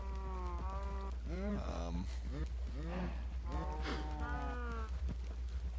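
Cows on a farm in a video game moo repeatedly in several drawn-out calls, some overlapping, over a constant low hum.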